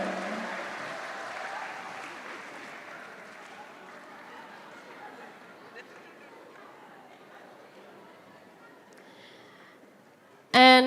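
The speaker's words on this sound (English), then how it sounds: "give applause again for our winner this year" Conference audience at an international agronursing event applauds the year's winner, clapping strongest at first and then thinning and fading over several seconds, ending with a sudden loud burst near the close.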